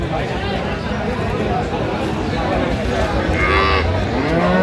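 Cows and calves mooing at a village cattle market for dairy cows and calves in Aftabganj, Dinajpur, with several loud, drawn-out lowing calls over steady crowd chatter and people talking nearby.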